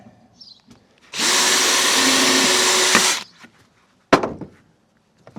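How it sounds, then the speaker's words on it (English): A power drill fitted with a double-ended bit bores into PVC for a knife sheath, one loud continuous whine of about two seconds that starts and stops abruptly, followed by a sharp clack and a few small knocks. "Don't like using these double-sided drills in my drill."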